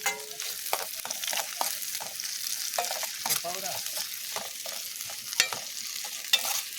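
Onions and chillies fry in a pan, giving a steady broadband sizzle broken by repeated clinks and scrapes of stirring, close and moderately loud, with no voices.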